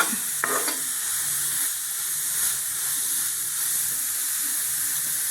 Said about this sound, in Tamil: இப்போ நல்லா வதக்கணுங்க.